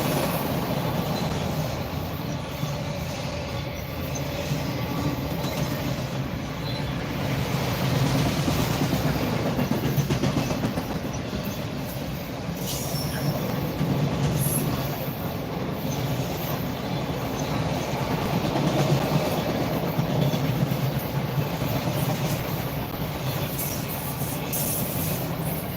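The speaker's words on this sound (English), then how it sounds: "now I got the CSX auto rack train on the camera" A CSX auto rack freight train rolls past in Beaver Falls, Pennsylvania, with a loud, steady rumble and rhythmic clickety-clack of wheels that continues for the whole stretch, with no talk.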